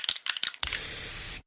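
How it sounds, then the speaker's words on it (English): Krylon Fusion all-in-one paint and primer spray paint hisses from an aerosol can in one steady, loud burst of about a second, preceded by a few short rattling or tapping sounds. "trust Krylon Fusion all-in-one paint and primer spray paint"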